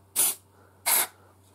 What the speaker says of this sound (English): we're going to test the optical detector, so with some smoke spray